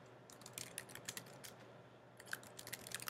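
Someone types a search into Google on a computer keyboard, a quick run of light, close key clicks that continues throughout with no talk.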